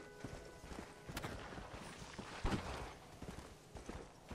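Horse hooves clip-clop at a steady trot through a busy outdoor soundscape in Red Dead Redemption: Undead Nightmare, mid-distance, with scattered thuds and faint ambient noise.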